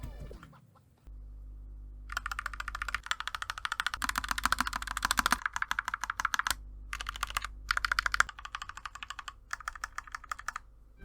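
Rapid typing on a Kemove K68 65% mechanical keyboard with modded stabilizers, a steady run of close, crisp clacks in bursts with brief pauses between them.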